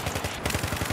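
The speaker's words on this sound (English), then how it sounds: "This is a good gun, though. At least I like the fire rate." Rapid machine gun fire in the video game Battlefield 3, a dense, loud burst of closely spaced shots rattling without pause for about a second.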